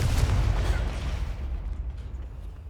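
A Confringo blasting spell explodes in Hogwarts Legacy: a loud, deep, rumbling blast that starts at full strength and then fades steadily over about two seconds.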